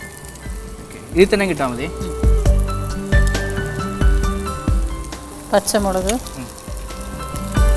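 Chicken fries with onions in a pan, giving a steady loud sizzle throughout. A person talks over it with rising tonal speech, and there are occasional clinks and stirring.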